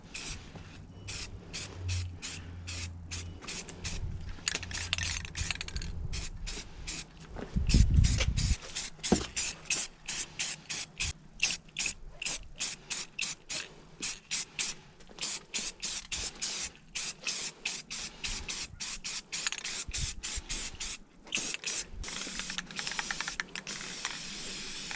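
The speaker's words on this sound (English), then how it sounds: "metallic aluminum spray paint. This stuff works really good and it handles heat well" Metallic aluminum spray paint hissing from an aerosol can onto an engine transmission, a run of short and longer bursts with brief rattles and handling noises between them.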